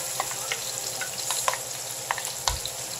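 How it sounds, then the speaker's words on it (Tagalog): Garlic sautéing in a pan for pork sisig while being stirred: a steady hiss with scattered sharp crackles and occasional scrapes of the utensil, moderately close, with no talking. "Unahin ko po sa garlic. Halu-haluin lang po natin."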